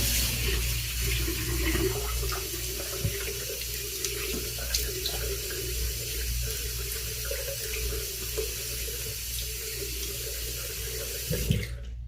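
Tap water runs steadily into a bathroom sink while someone wets their face before a shave, a continuous close splashing hiss with small gurgles and a clunk near the end.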